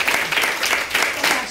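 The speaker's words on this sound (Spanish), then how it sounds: "Aplauso para Paco." Studio audience of a TV show applauding in short swelling bursts, fairly loud and close, with a voice faintly audible under the clapping.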